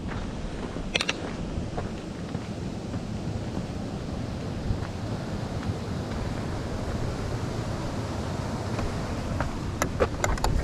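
A powerful waterfall in an old slate quarry at Banishead, heard as a constant broad roar of rushing water with wind buffeting the microphone, steady and fairly close.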